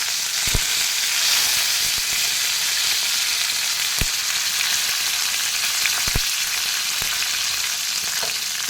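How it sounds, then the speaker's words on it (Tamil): Curry leaves and green chillies dropped into hot oil with asafoetida while tempering for sambar, a loud continuous close sizzle and crackle with a few sharp pops and spoon taps. "கருவேப்பிலை போட்டுறேன்."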